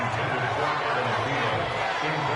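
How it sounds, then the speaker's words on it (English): Football stadium crowd in a PlayStation 4 football video game, a steady wash of massed cheering and chatter that stays loud and continuous throughout. "You can already start to hear this crowd."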